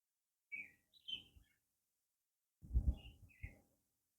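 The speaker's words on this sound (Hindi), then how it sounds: "वो देखो दोनों आ गए, यानी एक बुलबुल नर है, एक मादा है" A pair of bulbuls, male and female, call in a village setting with short bright chirps in two clusters separated by a quiet gap. The calls are fairly close and clear, with no talking.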